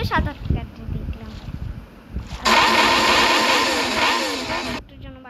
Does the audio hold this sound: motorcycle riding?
yes